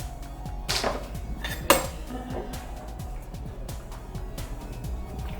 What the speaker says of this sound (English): now I'm just going to take it out of the boiling water and quickly shock it in the ice bath